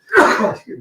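One sharp, loud sneeze bursts out close by, followed by a brief softer exhale.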